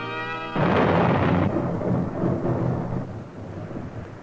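Thunder sound effect: a sudden loud crack and rumble after a short tonal lead-in, rolling on and slowly fading over a few seconds.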